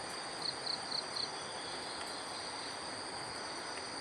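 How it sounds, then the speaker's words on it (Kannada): Frogs call at night around a grassy home courtyard: a steady, shrill chorus hums throughout, with a few quick pulsed calls near the start. No one speaks. "ಕಪ್ಪೆಗಳ ಕೂಗು ಕೇಳಿಸ್ತಾ ಇದೆಯಲ್ವ?"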